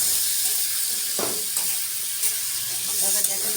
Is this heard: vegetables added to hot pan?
yes